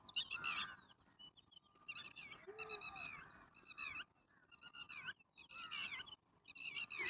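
Unfamiliar birds call loudly and repeatedly near the rocky forest site of Bhima's footprint, rhythmic bursts of harsh, chattering notes close by, with short pauses between them and no talk.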